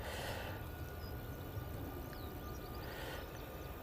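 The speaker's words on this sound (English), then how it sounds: "Ryanair 737 MAX 8 now on the roll" Ryanair Boeing 737 MAX 8 on its takeoff roll, heard from a distance as a broad, steady roar of jet engines with a faint whine, sustained and even throughout.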